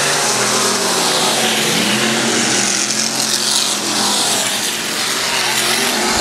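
Wingless open-wheel race cars roar around Valley Speedway, a loud, continuous, dense engine howl from several cars at once with rising and falling pitch, close to the track and filling the whole stretch.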